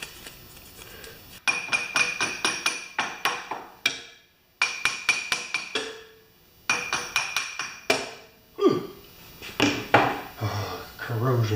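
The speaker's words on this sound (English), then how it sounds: "now the little baby brass hammer" Bursts of rapid metallic tapping from a small brass hammer on corroded metal of a pressure washer, quick rhythmic strikes in clusters separated by short pauses, close and ringing, with some scraping at the end.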